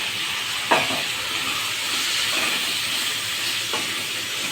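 Tomatoes cooking in a pan for an okra and tomato curry give a steady, soft sizzling hiss throughout, with a few faint clinks from a utensil.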